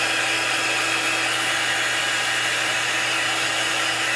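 Heat tool blowing steadily to heat-set craft material, a constant loud whooshing drone with an even tone that runs without a break, with no talk.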